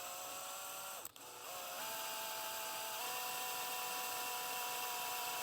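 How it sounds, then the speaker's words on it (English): A drill bores through aluminum into nylon winch rope, giving a high, steady whine whose pitch dips and steps as the bit bites and breaks through, heard alone at moderate level. "Hopefully it'll drill right through it and be a nice hole"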